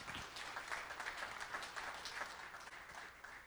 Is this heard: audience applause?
yes